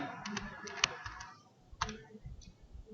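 Keys tapped on a computer keyboard in quick irregular clusters, fairly quiet and close, with a brief pause before a few more presses.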